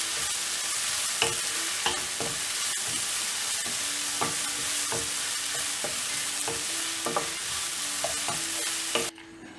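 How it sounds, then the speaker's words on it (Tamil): Tomatoes sautéing in a pan for spinach kadayal give a steady close sizzle, with a spoon repeatedly scraping and clinking against the pan and the frying cutting off at the very end. "நல்லா வதக்கி விட்டுடலாம்."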